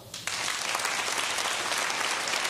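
An audience at a comedy show bursts into loud, dense applause to vote on an image. The clapping starts abruptly after a brief quiet moment and stays steady and full.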